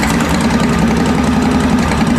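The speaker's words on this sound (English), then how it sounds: "here's our engine running, our wheel sitting still" A Ridley automatic motorcycle engine runs with a steady, loud, close mechanical drone and a rough pulsing texture, with no voices over it.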